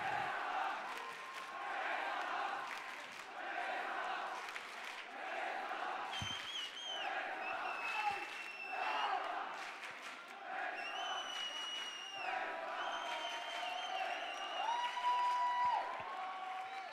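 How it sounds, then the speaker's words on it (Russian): A large esports arena crowd at a CS:GO StarSeries championship cheers, whoops and applauds continuously, a dense roar of claps and shouts with whistles rising throughout. "Аплодисменты Astralis, друзья."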